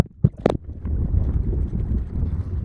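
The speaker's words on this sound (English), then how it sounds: "And it's real windy." Strong wind gusting aboard a sailboat on the ocean, a steady rushing roar buffeting the microphone after a couple of brief knocks at the start.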